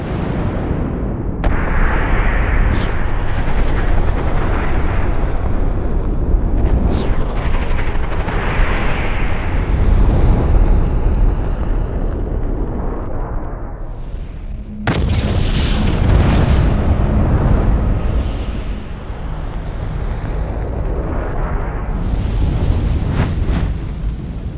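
A shotgun dragon's breath round bursts into a fireball as a long, loud, deep roaring rumble that keeps going, then surges again in a sharp renewed blast partway through.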